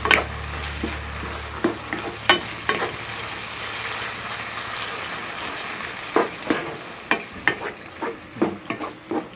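Steady sizzling of chicken frying in a pan, with intermittent scraping and clacking as a utensil stirs it; no voices.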